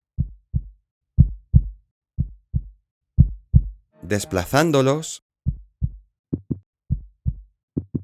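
A steady heartbeat sound effect thumps in regular lub-dub pairs, low and close, briefly interrupted by a spoken voice before the beats resume.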